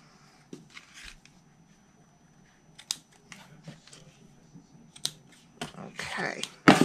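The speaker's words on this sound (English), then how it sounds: "And I need my scissors." A few short, crisp snipping sounds of scissors cutting cord and paper close by, scattered irregularly over quiet rustling, with a louder cluster of cuts near the end.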